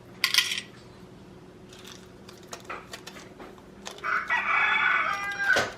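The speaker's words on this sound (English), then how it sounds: "Oh no, they let the roosters in here!" A rooster crows twice, brief bright calls near the start and a longer crow toward the end, amid light clinking of small Czech glass beads being handled.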